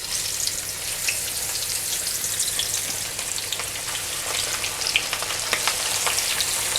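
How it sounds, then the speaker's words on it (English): Fish frying in hot oil for a Jamaican Easter meal gives a steady, dense sizzle with scattered pops and crackles, loud and close throughout without any talking. "So that is frying right now."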